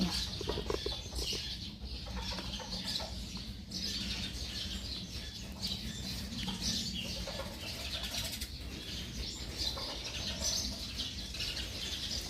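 Chickens clucking outdoors among other birds, a steady backdrop of overlapping clucks and coos with scattered wing flutters, moderately loud and continuous throughout with no talk.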